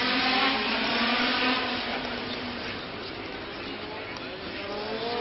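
A Lotus Formula 1 race car driven by Ronnie Peterson at the Monaco Grand Prix in Monte Carlo, its high engine whine droning steadily and rising in pitch. A commentator talks over it.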